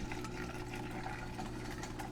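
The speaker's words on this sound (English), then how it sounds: "So now I'm blending" A blender whirs steadily while blending eggs, garlic, salt and a little water for aioli, a continuous low motor hum with faint liquid churning, moderately quiet and without speech.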